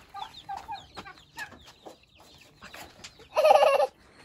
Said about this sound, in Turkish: Civcivlere bak Emir.